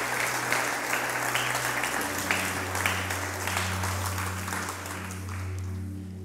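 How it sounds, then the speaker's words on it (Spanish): A church congregation applauds its team, a dense, sustained clapping crowd that fills the room and fades slightly toward the end. "Ayúdenme a darles un aplauso a nuestro equipo."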